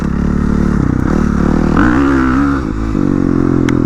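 Suzuki RM 450cc dirt bike running on urban trails, its engine droning loud and close with a brief rising rev in the middle, engine note shifting over a few seconds alone without talk.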